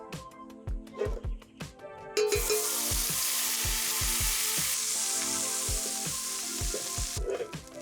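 A spoon of butter hits hot coconut oil and breaks into a loud, steady, close sizzle that holds for several seconds, framed by a few knocks and clatters of the utensil against the pan before and after.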